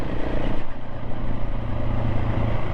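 Steady low engine drone of a 2024 KTM 690 SMC R motorcycle being ridden, a continuous loud rumble with a slight dip in level early on and no voices.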